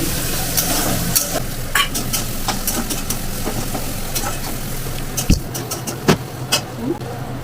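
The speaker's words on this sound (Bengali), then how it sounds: "এবার আমি পেঁয়াজটাও দিয়ে দিলাম ইলিশ মাছের মাথা তো ওর জন্য একটু পেঁয়াজটা দিলাম লাগবে" Onion frying with a hilsa fish head in a pan: a continuous loud sizzle with sharp spoon scrapes and a few louder knocks toward the end.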